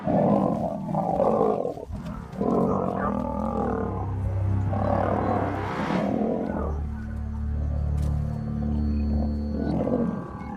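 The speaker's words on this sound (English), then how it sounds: "was roars and the most terrifying sounds." Two wild male lions fight in the Sabi Sand bush, producing deep, loud roars, snarls and growls in overlapping bursts that continue almost without pause, close and intense.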